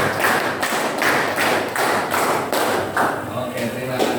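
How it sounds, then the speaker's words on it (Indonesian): Two rounds of a five-count group clap from a classroom, roughly ten bright, even claps in a steady rhythm, echoing slightly in the room. "dua kali tepuk lima"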